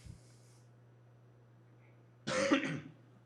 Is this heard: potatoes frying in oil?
no